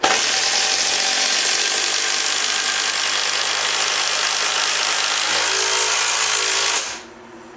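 A power drill whirs loudly and steadily for about seven seconds, then winds down and stops.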